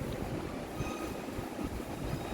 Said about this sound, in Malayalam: മെട്രോ ഇതാ വന്നിരിക്കുന്നു.